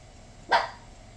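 A dog gives a single short bark for attention at moderate distance, set against a quiet background.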